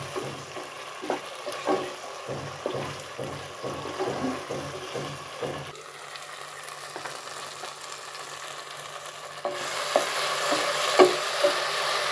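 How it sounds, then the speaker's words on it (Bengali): Chicken pieces tipped into a pan of fried spice paste for a wedding-style chicken biryani sizzle steadily while a spoon scrapes and stirs in a regular rhythm, then the frying grows brighter and louder, close and without talk. "মশলাটা আমার কষানো হয়ে গেছে এখন আমি এর মধ্যে মাংসগুলো দিয়ে দিব"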